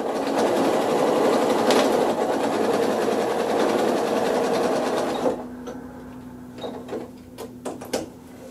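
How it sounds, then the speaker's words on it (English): A sewing machine stitches a quilt with monofilament thread, a fast, steady, close mechanical whir for about five seconds that then stops, followed by a few light clicks and handling taps. "I just stitch it so it goes down both sides."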